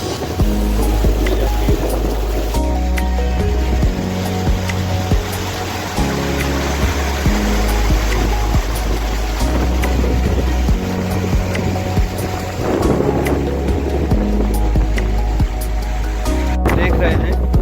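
Akash Ganga, a mountain stream near the Gangotri glacier, rushes loudly and steadily with a constant broad roar and low rumble, while a person talks over it.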